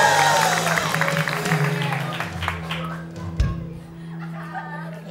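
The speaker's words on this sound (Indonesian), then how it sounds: "tepuk tangan." A studio audience claps on a regional Indonesian TV variety show, a broad patter of applause under talk and steady background tones that thins out after a few seconds.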